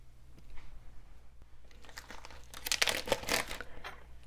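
Scissors cut the corner off a plastic piping bag being readied for whipped candle wax frosting, a brief close crinkling and snipping of plastic with quieter rustling before it.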